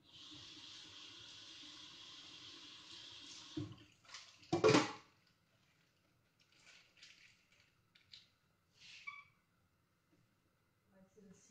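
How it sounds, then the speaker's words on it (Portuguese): Water runs from a kitchen tap while food is rinsed for a macrobiotic vegan dish, a steady hiss that stops abruptly, then a loud clatter and a few scattered knocks in a quiet room. "E assim eu vou já só passar isto aqui por água."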